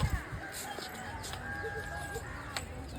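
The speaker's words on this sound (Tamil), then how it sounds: "கோழி." A chicken clucks near a church in Velankanni, India, with short sharp calls scattered over outdoor background noise and a few brief bursts at the start.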